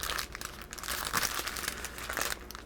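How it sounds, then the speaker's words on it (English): Steady crinkling and rustling of paper being folded around something, soft and close, continuous with no voices. "I wrap this in a little bit of parchment paper to make it easier to eat."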